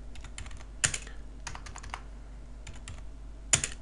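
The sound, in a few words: typing Hello World code on computer keyboard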